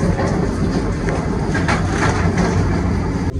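A passenger train pulling out of Balasan station, heard from on board as a loud, steady rumble of wheels and carriage noise that carries on without a break.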